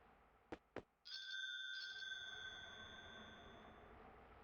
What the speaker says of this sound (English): An ominous looking bell shaped like a skull.